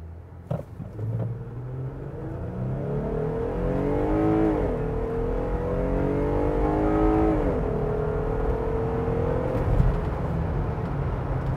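A 2021 Jeep Gladiator pulls away from rest, engine pitch climbing through several gear changes as it accelerates, with steady road and wind noise underneath.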